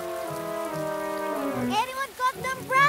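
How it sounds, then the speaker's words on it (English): Steady hiss of heavy rain falling in a cartoon scene, with sung and spoken voices and music carrying over it throughout. "It's raining a lot now."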